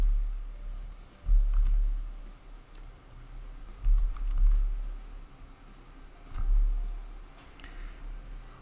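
Typing on a computer keyboard, an irregular run of soft, close clicks that comes in short bursts, with no talk over it.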